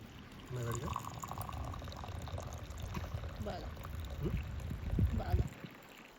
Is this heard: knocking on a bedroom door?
no